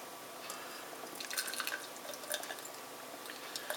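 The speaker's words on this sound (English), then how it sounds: "give it a pour in the booze glass" Steam Whistle Pilsner beer poured into a glass, a faint, close run of fizzing and splashing trickles with scattered drips, no voices.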